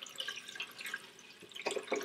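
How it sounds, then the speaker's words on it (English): Tap water trickles and splashes into the tank of a desktop reverse osmosis water purifier in a soft, uneven stream, close by and fairly quiet, with no talking. "tap water to the max line here"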